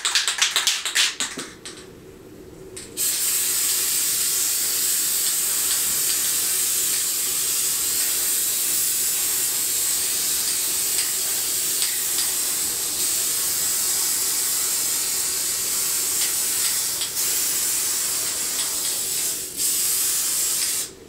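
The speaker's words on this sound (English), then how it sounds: "now I'm just going to give this a good spray." An aerosol can sprays in one long, steady hiss lasting many seconds, briefly interrupted near the end, after a few clicks and rattles at the start.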